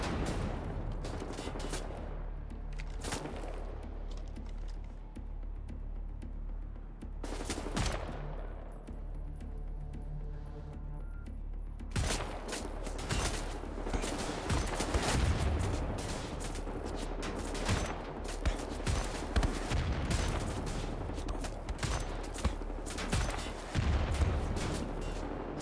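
Repeated gunfire from Wolfenstein: The New Order, a World War II shooter game, with bursts of automatic shots and loud cracks spread across the clip, a brief lull midway before heavy firing resumes.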